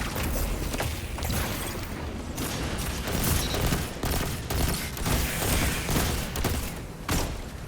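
Destiny 2 PvP firefight: a loud, continuous stream of rapid gunshots in quick repeated bursts, close and dense from start to finish, with no talking.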